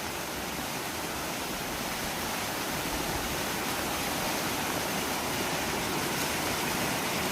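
The flooded Jamda river rushes past in a dense, unbroken roar of flowing water, loud and constant throughout with no voices.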